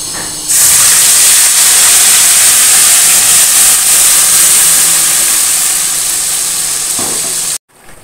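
Onion, ginger, garlic, tomato and chili paste frying in a pan over raised gas heat, giving a loud, steady, close hiss and sizzle that runs almost unbroken and cuts off abruptly near the end.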